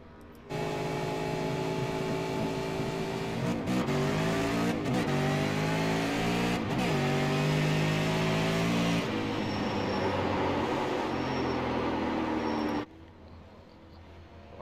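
Tony Rice's number 64 race car in the USA Super 50 pulls onto the track for its first timed lap, the engine roaring loud and steady with gear shifts and rising revs before it cuts off abruptly.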